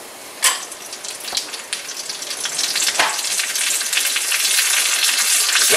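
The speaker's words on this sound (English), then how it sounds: "Got some sizzle, crackle." Fried bologna sizzles and crackles steadily in a hot pan, with a few sharp pops rising over the constant frying hiss, close and fairly loud.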